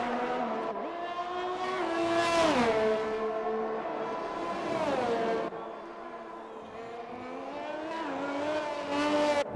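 A race car in a racing video game on a flying lap, its engine whining loud and close, rising in pitch through the gears with repeated upshifts and dips over several seconds, alone with no talk.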